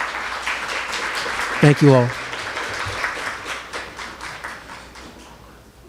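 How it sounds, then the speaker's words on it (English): A short burst of applause from a press-conference crowd for Good Jobs Challenge workers follows a brief spoken thanks and fades quickly as a voice carries on. "Let's give them a round of applause."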